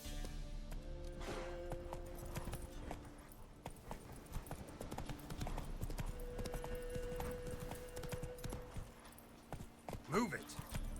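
Roach the horse gallops in The Witcher 3, her hooves clip-clopping in a steady run through game music and ambience, with spoken voices over it and a brief neigh near the end.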